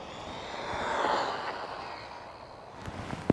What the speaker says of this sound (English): 3S has definitely woken it up, but I just want to do a couple of slow passes just to get that LiPo warm